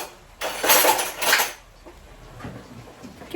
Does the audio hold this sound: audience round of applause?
no